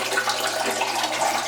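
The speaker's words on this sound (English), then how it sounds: "Siphon starts." An aquaponics bell siphon starting to drain, a steady close gush and gurgle of water rushing down through the pipe, continuous and moderately loud, with no talking.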